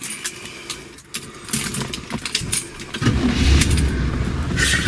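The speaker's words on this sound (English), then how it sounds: "Fire this thing up." A 1969 Cadillac Sedan DeVille big-block V8 cranks briefly and catches, then settles into a steady, deep, smooth idle close by, with no talking.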